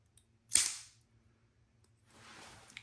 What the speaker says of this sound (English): When I'm pressing on the button to release it, it's crunching.